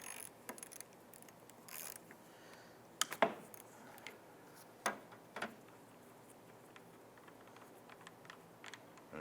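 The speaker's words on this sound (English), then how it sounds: "We're going to go ahead and use our 17mm socket and our ratchet." A ratchet with a 17mm socket loosens a coolant temperature sensor on a 2011–2017 Honda Odyssey, giving faint, scattered metallic clicks and a few sharper clanks against a quiet background.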